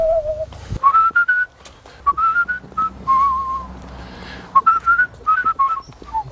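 A person whistles a lilting melody of short rising and falling phrases, close and clear, alone with no talking.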